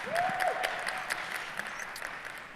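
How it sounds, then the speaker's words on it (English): Moderate applause for the judges at a summit pitch competition, somewhat distant and thinning as it goes, with a faint whistle-like tone rising early on. "Would you please give our 4 judges a round of applause?"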